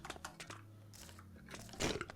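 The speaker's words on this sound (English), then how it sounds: "Chewing through our food though" A player character eating food in the Minecraft modpack GreedyCraft, quiet crunchy bites and chewing in short bursts, soft and low in level.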